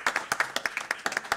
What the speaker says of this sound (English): I think now we should clap